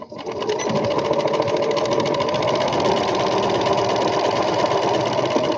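Sewing machine running steadily, stitching a half-inch seam allowance backward and forward with a dense, continuous whirring rattle that holds at one loud level without pause.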